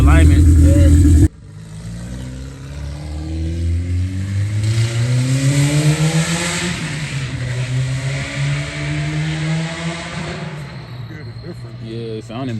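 A car engine revs and holds at mid pitch after a sharp cutoff of a louder opening sound, its harmonics rising and settling steadily, close and fairly loud, with a voice talking faintly over it; the engine had been running too rich.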